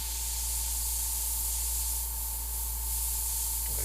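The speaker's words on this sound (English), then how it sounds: "Shook it up and then sprayed it." An airbrush sprays reduced paint onto a board track racer piece, producing a constant, dense hiss with a steady tonal hum beneath, uninterrupted and close throughout.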